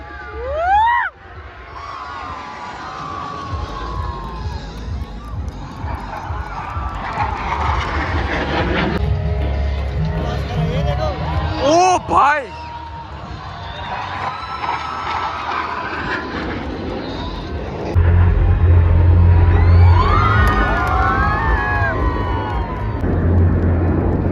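Suryakiran aerobatic team jets roar over the Jamnagar air show. Engines swell and sweep past in repeated loud passes, with a heavy rumble building toward the end, while a crowd murmurs and cheers underneath.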